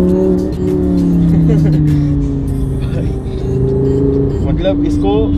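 A car's engine revs as it downshifts in sports mode, sounding loud and close with a sustained droning tone that shifts in pitch. Someone talks over it throughout.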